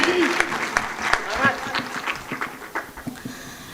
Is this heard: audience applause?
yes